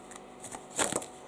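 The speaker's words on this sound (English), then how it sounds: "You can see I always thoroughly shuffle the cards as best as I can." Tarot cards are shuffled by hand at close range, a quick series of soft riffling flutters ending in a brighter burst.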